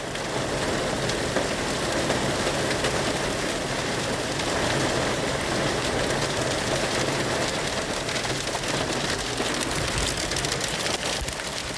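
Hail and rain fall steadily in a dense, continuous hiss and patter, loud and close, with no pause or change through the whole stretch.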